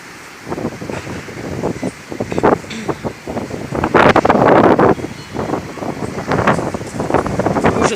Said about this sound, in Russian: Ужас, какой ветер.